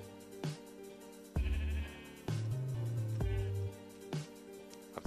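Cow mooing in Minecraft, several drawn-out nasal moos in a row, loud and close, each lasting around a second with short gaps between.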